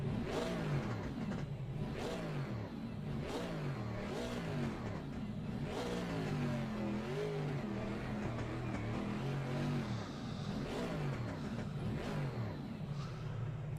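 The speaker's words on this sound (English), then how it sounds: "listen to this engine though" An Aston Martin Vantage V8 GT3 race car in Assetto Corsa Competizione at Zandvoort roars continuously, its engine note rising and dropping repeatedly through upshifts and braking downshifts, loud and sustained with no talking.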